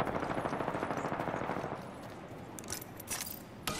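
Rapid automatic gunfire from a video game, a dense rattling burst of shots loud and steady for the first half, easing into scattered sharper reports and clatter toward the end, with no talking.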